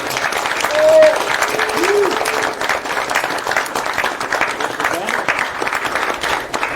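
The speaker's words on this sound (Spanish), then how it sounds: "otro aplauso a los grandes ponentes" Audience at an architecture academy event applauding the speakers, a dense wash of many hands clapping steadily throughout, with a brief voice rising over it near the start.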